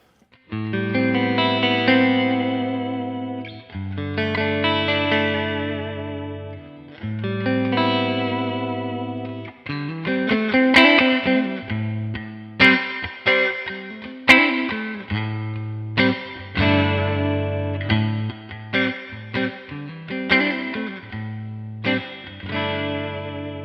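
Novo Serus J electric guitar chords on the middle pickup position ring out with shimmering chorus and reverb, long sustained strums at first, then choppier rhythmic playing.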